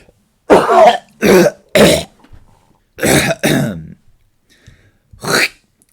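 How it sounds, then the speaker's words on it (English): A person coughs in a series of sharp bursts, two quick ones, one more, then a close pair, and a final cough after a pause, nearby and loud with silence between. "my doctor actually told me that I need to cough the more often"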